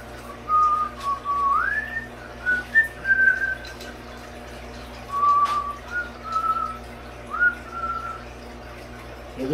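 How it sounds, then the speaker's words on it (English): A person whistles a tune with a phone echo, the phrases sliding and rising in short melodic bursts with pauses between them, close and fairly clear over a faint background hum. "Makes my whistle sound better."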